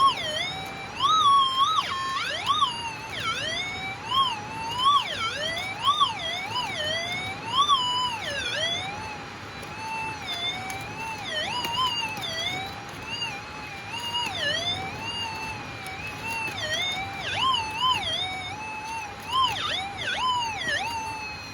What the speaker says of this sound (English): once you start digging down, these targets start getting louder and louder